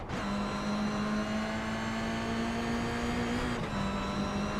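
GR86 race cars at Oran Park in an iRacing sim race, a steady droning engine note under throttle with a slight pitch rise and a brief dip near the end, loud and continuous.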